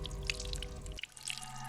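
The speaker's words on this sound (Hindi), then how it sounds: "बाथरूम में पानी बहने की आवाज आ रही है।" Water runs steadily in a bathroom, a soft continuous trickle and splash with faint dripping, heard from a little distance behind a door as a low, even wash without talking.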